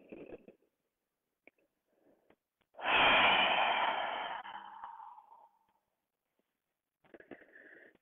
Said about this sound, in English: Remembering to breathe slowly.